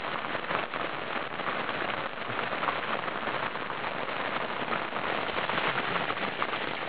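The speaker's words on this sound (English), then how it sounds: "This is I think the third rainstorm today." Rain from a rainstorm drums on a tent roof by the Sandy River, a dense, steady patter of drops that stays constant and moderately loud throughout.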